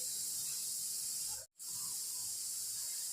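A home kitchen pressure cooker gives off a strong, steady hiss of escaping steam, close and continuous, broken once by a sudden brief silence before the hiss resumes.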